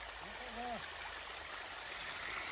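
A stream of clean water at a waterfall, a steady, full rush filling the whole clip, with a faint voice briefly heard underneath.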